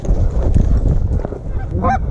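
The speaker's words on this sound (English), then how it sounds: "28 geese on the ground. Bunch of specks, bunch of honkers." Geese honking during a goose hunt, a burst of several loud nasal honks near the end over wind and rustling field noise.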